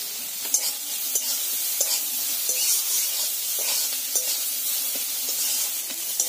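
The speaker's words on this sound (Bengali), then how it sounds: "দেখো পেঁয়াজটা নেড়ে চেড়ে ভেজে নিয়েছি" Chopped onions, about three, fry with a pinch of salt in a pan, giving a steady sizzle and hiss broken by repeated scrapes and clicks of stirring.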